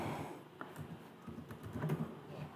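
Soft, quiet tapping of keys on a computer keyboard while a company name is typed into a spreadsheet sharing form, irregular light clicks over a steady low room hum.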